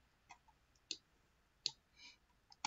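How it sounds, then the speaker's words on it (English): A few sharp, quiet computer mouse clicks at irregular intervals, close to the mic against near silence. "let's click OK"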